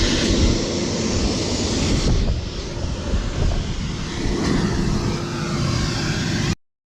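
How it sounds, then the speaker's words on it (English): Shop vac running steadily, a loud continuous whooshing drone that wavers slightly before cutting off abruptly near the end. "so we got the shop vac"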